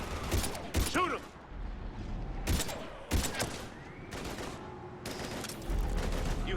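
Gunfire in Mass Effect 3, scattered sharp shots in separate bursts with mechanical clatter between them, moderately close amid background game ambience.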